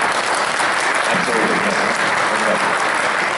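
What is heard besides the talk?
applause for the translator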